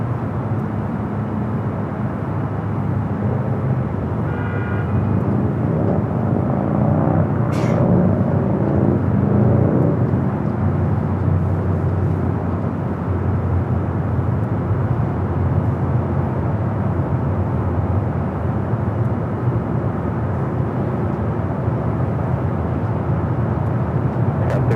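A jet pushing back or under tow at LAX gives a steady broadband rumble and whir that holds at the same loud level throughout, with no break and no talk over it.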